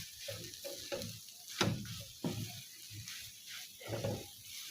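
Spices and a chicken and potato samosa filling sizzle and get stirred in a pan, with a soft continuous fry broken by scraping stir strokes close by, and no talking.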